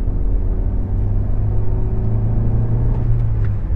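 A 2002 Renault Twingo 1.2 with 75 hp accelerates at full throttle, its engine droning with a steady, loud, low rumble heard from inside the cabin.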